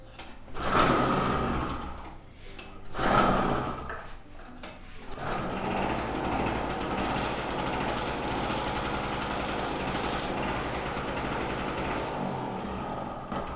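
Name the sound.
portable Tg 950 Chinese two-stroke generator running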